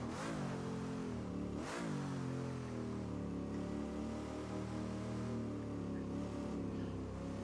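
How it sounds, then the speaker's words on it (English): A Holden A9X Torana V8 touring car in Assetto Corsa runs a steady, loud engine drone with two sharp revs near the start, then holds a rich, rumbling tone alone. "That is a great engine sound."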